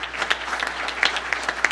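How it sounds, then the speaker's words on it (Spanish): An audience at a corporate governance event gives a short round of applause, scattered claps rising to a few sharper peaks over a couple of seconds. "Un aplauso, por favor."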